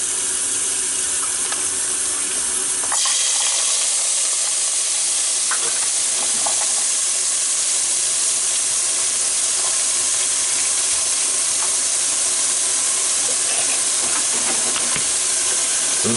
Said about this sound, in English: now what I'm going to do is put some onions in here